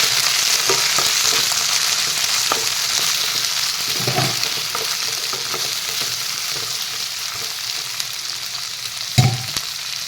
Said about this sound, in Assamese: মটৰকেইটা অলপ ভাজি ল'ম।